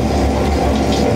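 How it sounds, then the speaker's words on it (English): Water sprinklers spraying an artificial rain effect on an outdoor film set at a Hollywood studio, a loud, dense and steady hiss of gushing water with a low rumble underneath. "Here comes the rain."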